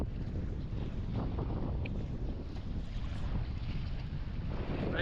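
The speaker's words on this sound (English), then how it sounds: "Oh, that wind." Strong, steady wind roars across a rocky North Sea beach, a dense continuous rush buffeting the microphone with a faint wash of waves underneath and no voices.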